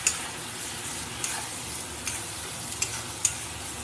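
Okra, flat beans and potatoes fry in a pan, a steady soft sizzle broken by a few sharp clicks of a utensil stirring, close and without talking.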